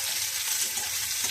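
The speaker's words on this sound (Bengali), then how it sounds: "পেঁয়াজ দেবো, দিয়ে একটু নেড়ে" Onion fries and is stirred in a pan, a short burst of bright, steady sizzling hiss with faint scraping underneath.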